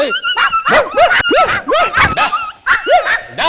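A dog yelps and whimpers in a rapid run of short, close, high-pitched cries, about a dozen in quick succession with brief gaps.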